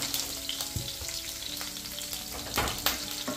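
Onions frying in smoking palm oil for Nigerian egusi soup, a steady close sizzle with a few sharper stirring scrapes and pops, no voices.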